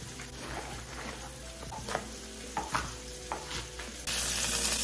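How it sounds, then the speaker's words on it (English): Chicken thighs fry skin-down in a skillet with a steady close sizzle and crackle, a few sharper pops and utensil clinks over the top, and the frying grows louder and brighter near the end. "I'm gonna leave my thighs alone for like 5 minutes or until the skin gets really golden and crispy."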